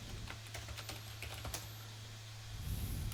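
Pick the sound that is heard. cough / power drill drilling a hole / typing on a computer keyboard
typing on a computer keyboard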